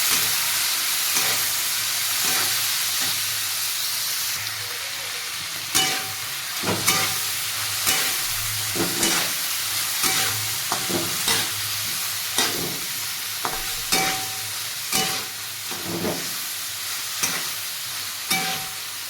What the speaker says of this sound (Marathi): शेंगा चांगल्या आपल्याला परतून द्यायचं।